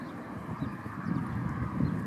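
A dark, heavyset, very tame horse walks outdoors, its hooves giving soft, irregular clip-clop thuds over a steady breezy wind rumble, with no voices.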